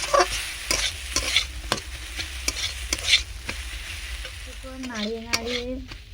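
Boiled potato mixture for plantain (kola mocha) chop is stirred in a hot pan, with repeated scraping strokes over a low sizzle, close and steady. A short voice-like tonal sound comes in near the end.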